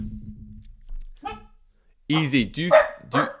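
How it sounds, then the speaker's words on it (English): A dog barks nearby in a home, several short barks in a quick burst, with a voice speaking just before and over it. "sorry about the dog, guys."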